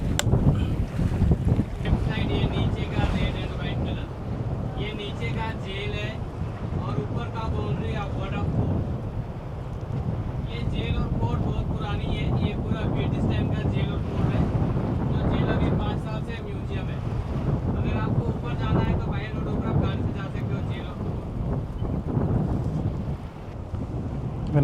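A tourist boat on a dolphin-watching ride off Goa, with a steady engine drone and water rushing past the hull. Wind gusts hit the microphone and voices murmur intermittently in the background.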